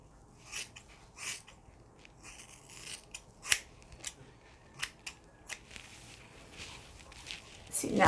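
Scissors cutting hair: a series of crisp, close snips in an uneven rhythm, quiet and separate, with a louder rustle near the end.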